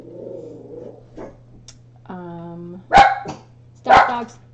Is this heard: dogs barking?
yes